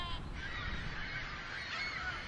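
Migrating birds such as cranes and herons call from a flock in a continuous honking, goose-like chorus at moderate distance. The calling overlaps steadily with no speech.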